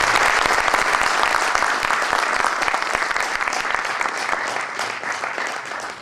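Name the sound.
loud applause honouring teachers at reunion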